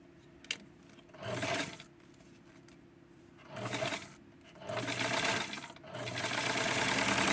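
A sewing machine stitches the shoulder of a small doll dress in four bursts of rapid mechanical whirring, separated by quiet pauses, with the later runs longer and steadier.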